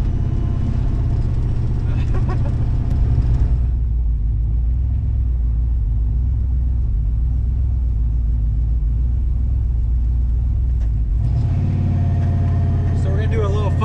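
A 1987 Chevrolet Caprice Landau with a new turbo accelerating hard, heard from inside as a loud, steady engine roar and rumble, easing briefly in the middle before surging again, with excited voices talking over it.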